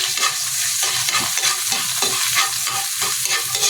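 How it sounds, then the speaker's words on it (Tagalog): Garlic sizzles steadily in a hot pan for bean sprouts with shrimp, with a spatula scraping and stirring in a regular rhythm over the continuous close frying hiss. "Tapos gisa tayo ng bawang."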